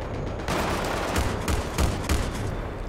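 A tank fires at close range in Battlefield 3 amid dense gunfire. Loud overlapping bursts and heavy thumps form a continuous barrage.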